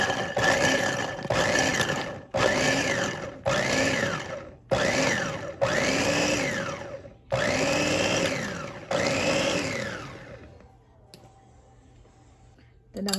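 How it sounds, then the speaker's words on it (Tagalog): Garlic being chopped in a food processor, loud motor whirring in about eight bursts of roughly a second each, pulsed on and off, then the hum stops and a quiet background remains. "Akin mo nang ipa-processor ang aking garlic."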